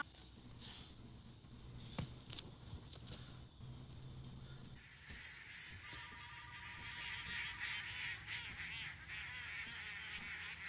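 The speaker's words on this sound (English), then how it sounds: "It looked like geese, but it sounds like ducks" Ducks quacking and honking in a scene from The Sopranos, a cluster of nasal calls that builds after a few scattered noises, fairly faint and mixed with background sound.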